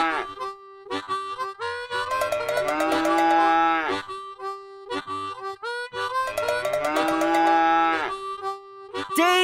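A cartoon cow lets out two long, loud, drawn-out moos close by with nothing else around it, while cattle are herded in a children's animated adventure.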